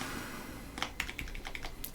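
Quick, light keystrokes on a computer keyboard at a Linux desktop, a short irregular burst of clicks, close and quiet, with no speech.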